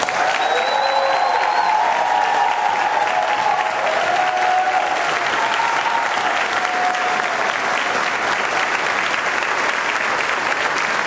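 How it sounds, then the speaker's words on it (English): Sustained, loud applause from an audience at a fire rescue recruit graduation ceremony for new firefighters, steady dense clapping with some crowd noise and whistles, lasting throughout. "can we have a round of applause for our new firefighters?"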